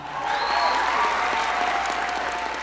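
A studio audience applauds and cheers in a dense, steady wash of clapping with some whoops, sustained evenly throughout at a moderate level.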